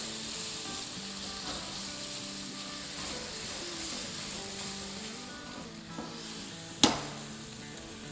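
Toasted masala mixed with two tablespoons of yogurt sizzles steadily in a pan while being stirred, with a faint tonal background underneath and one sharp clank near the end.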